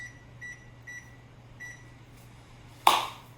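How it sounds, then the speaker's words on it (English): A kitchen timer is set for 30 minutes, giving several short, faint, evenly spaced beeps over a low appliance hum, then a sharp louder clack. "I will set my timer for 30 minutes."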